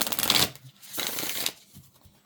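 A large tarot deck is shuffled by hand in two quick riffling bursts, close and crisp, followed by softer card handling.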